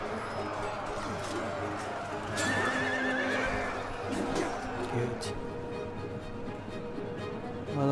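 Horses in the medieval strategy game Medieval Kingdoms 1220AD whinny loudly over a busy battle din, with one prominent neigh in the middle and faint clip-clop and voices in the background.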